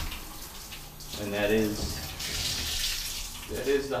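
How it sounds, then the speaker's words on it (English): A faucet runs continuously on the hot side in a rental unit, a steady wash of water noise with a voice briefly speaking over it midway. "Faucet just continually running."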